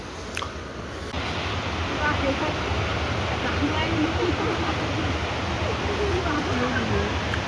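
A river rushing through a mountain valley with a cliff on the far side, a steady broadband roar of flowing water heard nearby and continuous throughout, with a person speaking faintly under it.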